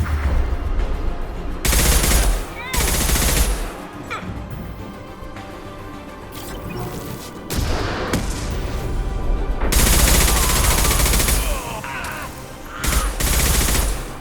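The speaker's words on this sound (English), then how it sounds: "Taking fire." Bursts of automatic and single gunfire roar through a Mass Effect 2 Legendary Edition firefight on PS5, loud and close, broken by short pauses and distant shots, with brief voice calls mixed in.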